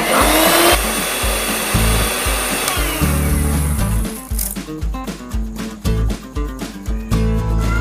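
An electric mixer beats chocolate cake batter after oil has been added, with a loud steady motor whir broken by a few brief pauses and changes in pitch as the beaters work the mix.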